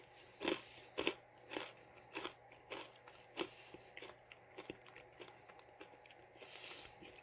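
Crunchy peanut rice cracker from a premium mochi mix being chewed up close, with a run of sharp crunching bites that start loud and soften into quieter, steadier chewing.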